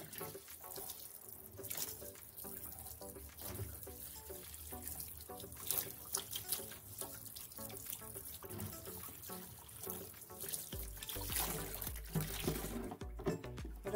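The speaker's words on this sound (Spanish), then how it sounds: "Ahora vamos a dar un choque de agua fría" Cold water from a tap runs over a restored Barbie doll's freshly washed hair, a steady close splashing trickle with small drips and shifts that ends in a brief clunk.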